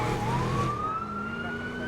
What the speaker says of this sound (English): Pretty decent siren, pretty decent lighting.